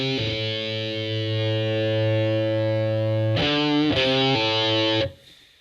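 Electric guitar through a Boss XT-2 Xtortion distortion pedal: a loud, sustained distorted chord rings out alone, followed by two short choppy chords before cutting off.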